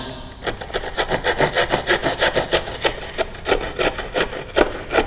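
Rhythmic rasping strokes of a Xiaomi HuoHou K30 Pro multitool saw biting through wood, steady back-and-forth cuts about three per second, close and loud with no voices.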